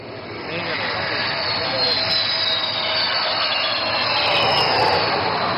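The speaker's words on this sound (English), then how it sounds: "this twin-engine fighter demands nothing but absolute precision while landing on this highway" A twin-engine Sukhoi Su-30 fighter jet weighing over 38 tons comes in to land on a highway during an air force show, its loud, steady jet roar swelling gradually, with a commentator speaking over it.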